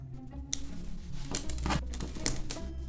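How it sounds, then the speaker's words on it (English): Snips and clicks from cutting small posts out of green 3D printer filament, a handful of sharp close cuts with faint rustling in between. "we're gonna have to cut these little sections, these little posts, out of our radioactive green filament"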